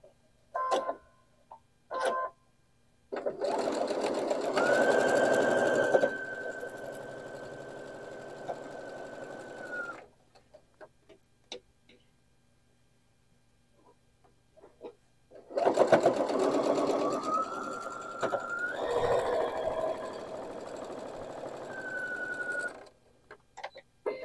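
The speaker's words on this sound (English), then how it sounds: "So I'm going to put those right sides together, make sure those are nested, and then go sew them down." A sewing machine stitches quilt block seams for a disappearing nine patch in two sustained runs of fast, even whirring, separated by quiet pauses with light handling clicks and a few short taps at the start.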